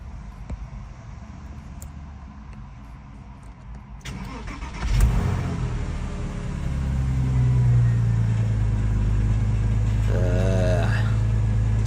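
Porsche Boxster engine idling after a throttle body clean, a steady low rumble that rises and settles after a start, with a faint whine and some background noise.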